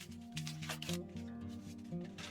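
Crinkly rustling and tearing of packaging as a small skincare gift from an advent calendar is opened with some difficulty, quiet bursts of crackling paper and plastic close by, no speech.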